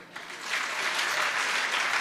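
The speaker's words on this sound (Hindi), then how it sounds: "इतनी जोरदार तालियां" A crowd at a Jain religious discourse breaks into hearty applause, which starts softly and quickly swells into a dense, continuous clapping that stays loud to the end.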